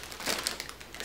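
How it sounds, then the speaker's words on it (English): Yarn packaging crinkles in a brief, close burst of crisp rustling and crackling lasting about a second. "there's gonna be some crinkling."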